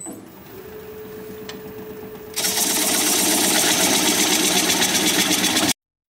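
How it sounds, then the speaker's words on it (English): Wood lathe spinning a bowl as a 1/2 inch standard grind bowl gouge removes the tenon; a steady motor hum gives way to a loud, continuous hissing cut that stops abruptly. "1/2 inch standard grind bowl gouge and start removing the tenon."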